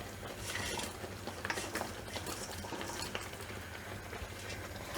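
Manchurian balls are stirred into a chili sauce gravy in a pan, giving a soft continuous sizzle with faint scraping and patter throughout, no talking.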